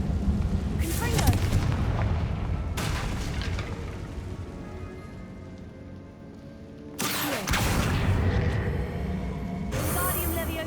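Confringo fire-blast spell explosions in the Hogwarts Legacy video game, loud booming bursts recurring several times over continuous game music and ambience, with a voice briefly present.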